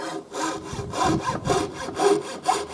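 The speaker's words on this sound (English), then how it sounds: "we just carry on sawing just like before" A hand saw rasps through wood in steady back-and-forth strokes, about two per second, close up.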